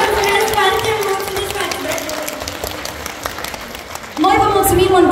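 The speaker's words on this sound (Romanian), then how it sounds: "Aplauze pentru Ceau, Patricia!" At a children's concert the audience keeps up a busy bed of clapping and crowd noise while an amplified voice rings out over it, the voice loudest near the start and again at the end.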